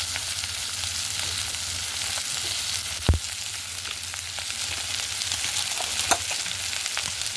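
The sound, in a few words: frying fish oil with ginger-garlic paste and turmeric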